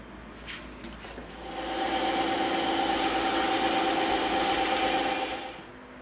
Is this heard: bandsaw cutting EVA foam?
yes